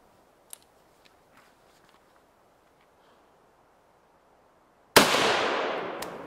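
A 7.62x39 rifle firing a 124 grain full metal jacket round into a stack of carpet tiles gives one sharp, very loud crack after several seconds of near silence with faint small noises, then a quickly fading echo.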